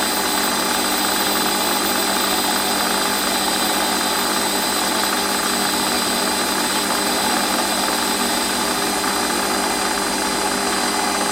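A toolpost grinder mounted on a Warco lathe takes a finishing cut, giving a steady, loud high-pitched whine with motor hum that holds unbroken throughout, with no talking.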